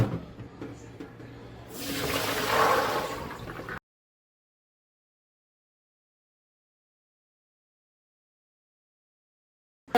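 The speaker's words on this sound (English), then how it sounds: "Fill that bowl all the way up with water." Water rushes into a bowl of soaking chickpeas in a short burst of about two seconds, then stops, leaving silence.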